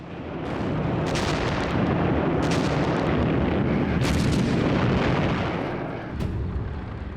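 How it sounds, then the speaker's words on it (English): Soviet artillery bombardment of German positions in WWII, a dense, continuous roar of heavy guns with repeated sharp blasts rising out of it, loud and sustained for the whole stretch, with no voices. "The attack on the German positions started with a savage 65-minute bombardment."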